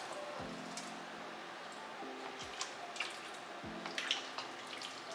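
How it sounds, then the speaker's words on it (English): Meatballs dropped one at a time into a pot of simmering lemony Italian mini meatball soup, three soft low plops spaced a couple of seconds apart over quiet bubbling and light clatter. "We're also gonna add in our meatballs."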